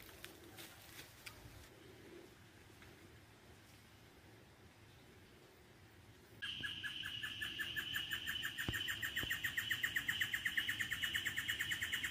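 Cicadas and birds by the Meia Ponte river at a campsite: faint bird chirps at first, then a loud pulsing cicada drone that starts suddenly and continues to the end, with occasional chirps mixed in.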